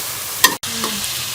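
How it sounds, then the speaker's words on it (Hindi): Chicken frying in ghee in a pan for Mughlai chicken handi, stirred with a spoon: a steady close sizzle with a brief scraping stir and a momentary break, alone without voices. "अच्छी तरह से भून लेंगे घी के अंदर चिकन को।"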